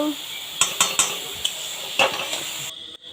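Spoon scraping and clinking against a pot while banana flower curry is stirred to dry off its water, several sharp knocks over a soft sizzle, close up with no voices.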